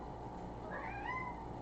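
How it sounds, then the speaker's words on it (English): A pet cat gives a single rising meow in answer to its name, faint and slightly distant over a steady background hum indoors. "that's my cat Alaska right there"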